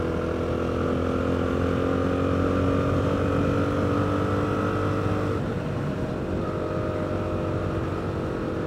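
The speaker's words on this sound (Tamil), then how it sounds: "இப்போ நீங்கள் சடன் புல் பார்ப்பீங்க, அதாவது இந்த வண்டியோட ஆக்சலரேஷன் எப்படி இருக்குன்னு." A Jawa 42 FJ motorcycle pulls hard with a loud, steady engine drone throughout, its tone shifting partway through as it accelerates, recorded close with constant wind-like roar.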